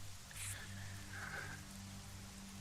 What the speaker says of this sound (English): And it's raining again.